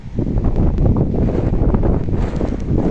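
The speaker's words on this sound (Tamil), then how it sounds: "இப்போ இன்றைக்கு காற்று கொஞ்சம் சரியாக அடிச்சு கொண்டிருக்கு" Strong seashore wind in a storm buffets the microphone in heavy, continuous roaring gusts, with a faint wash of rough surf beneath the low rumble.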